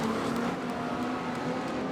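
A speedway race car roars past at close range, its engine note steady and loud throughout with no pause, no one talking over it.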